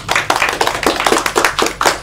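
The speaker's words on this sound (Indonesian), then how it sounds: "ayo beri tepuk tangan" Classroom applause from students in a microteaching lesson, a short burst of close, rhythmic hand claps in a quick steady pattern, with no talking over it.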